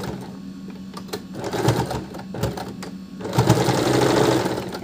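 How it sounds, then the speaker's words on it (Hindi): Sewing machine stitching a sleeve seam along a marked line: a steady close mechanical whirr and rapid needle clatter that speeds up toward the end, with no talking over it. "इसके निशान के ऊपर ही अब हम सिलाई करेंगे"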